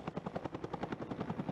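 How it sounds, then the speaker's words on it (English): Firefighting helicopter water bombing wildfire hotspots on a mountain near Cape Town, its rotor chopping in a fast steady rhythm, faint and at a distance, with no other sound. "Helicopters have conducted aerial water bombing in high sections of the mountain to put out fires at hotspots."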